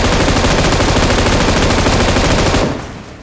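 A continuous, very loud stream of automatic gunfire in PUBG Mobile rakes an armored vehicle, a dense unbroken rattle that cuts off sharply near the end and leaves a fading echo.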